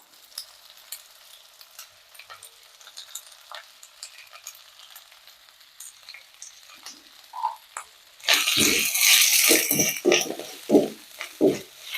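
Tomato and coconut sautéed in a pan for tamarind curry: quiet faint kitchen noise gives way to a loud burst of sizzling and scraping stirring strokes over the last few seconds.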